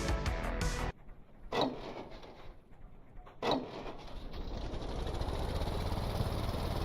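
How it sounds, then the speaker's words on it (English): A very small engine in the vehicle-building video game Stormworks idles too low, giving a rough steady rumble after a loud opening burst, with a couple of clunks partway through. "The idle is too low because of it's a very small engine."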